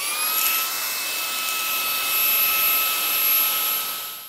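A Xiaomi Mijia mini handheld vacuum cleaner runs close by with a loud, steady whine and a high motor pitch that holds level throughout, with no talking.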